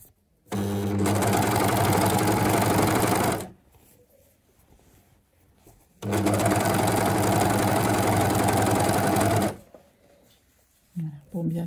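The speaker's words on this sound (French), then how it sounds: "je positionne mes bords et je vais surjeter tout le bord" An overlock machine serges the edge of a skirt in two loud, steady whirring bursts of about three seconds each, close by, with quieter handling sounds in the gaps.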